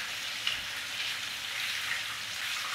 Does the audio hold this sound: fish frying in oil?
yes